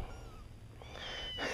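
Several kittens in a basket give faint, thin meows against a quiet indoor background, with a brighter, louder mew rising near the end.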